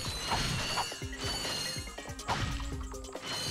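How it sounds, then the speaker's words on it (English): Bolts are collected in the Ratchet & Clank HD Collection, making a busy run of metallic clinks and ratcheting clicks over game effects, with repeated bright jingles and clatter that keep going throughout. "You're giving me a lot of bolts here."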